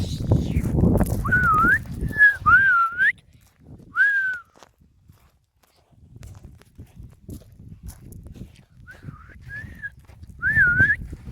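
Whistled notes during a walk through a farm field: short rising, chirpy phrases in a few bursts, with a pause in between and a final cluster near the end. Footsteps and rustling sit underneath.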